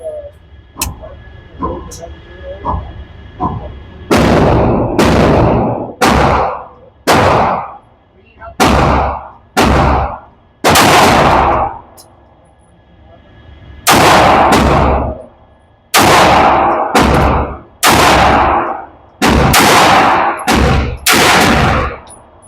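Pistol shots from RIA Pro Match handguns at an outdoor shooting range, a series of loud, sharp reports fired in quick irregular bursts with short pauses between strings, each crack ringing out briefly, faint talk and small metallic clinks in the quieter gaps.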